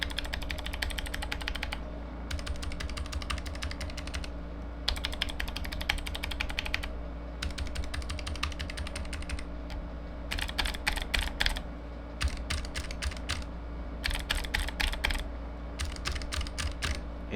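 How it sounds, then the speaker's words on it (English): Fast, sharp clicky keystrokes from a mechanical keyboard with black clicky Space Invader switches, typed in bursts with short pauses, close and crisp over a steady low hum. "it has black clicky Space Invader switches"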